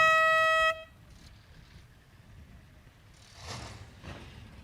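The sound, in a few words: horn sounded at a speedway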